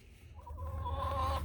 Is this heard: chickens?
yes